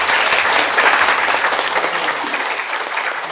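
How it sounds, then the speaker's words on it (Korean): A church congregation claps loudly to welcome children, a dense continuous burst of applause filling the hall that tapers slightly toward the end. "큰 박수로 다시 한번 환영하도록 하겠습니다."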